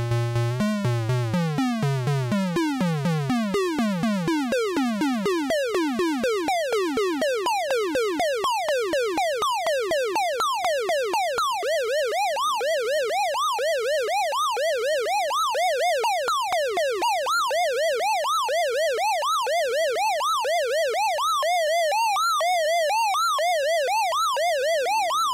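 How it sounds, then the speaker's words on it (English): Synthesizer square wave with ADSR frequency modulation, waveform 14: a loud, continuous buzzy tone whose pitch swoops rapidly up and down in repeated sweeping glides, like a fast wailing siren, sustained alone for the whole stretch. "waveform number 14, which is ADSR frequency modulated square"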